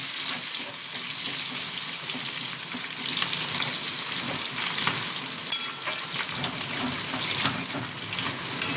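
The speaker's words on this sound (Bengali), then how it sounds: "কাঁচা লঙ্কা কুচি দেব, পেঁয়াজ কুচি দেব, দিয়ে এটাকে ভাজবো।" Chopped onion and green chili fry in a pan for chili chicken, giving a continuous, fairly loud hiss and sizzle with scattered crackles and light stirring throughout.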